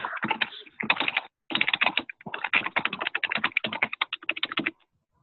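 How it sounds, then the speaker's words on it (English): Steady, fast keyboard typing in bursts with a brief pause, clicky keystrokes close to the mic, no voices. "I hear typing."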